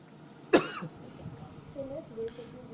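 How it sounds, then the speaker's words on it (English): A hospital patient on oxygen, short of breath, breaks into a single sharp, loud cough spasm, followed by quieter throat noises and faint background murmurs. "he's unable to hold a long conversation without him having these cough spasms"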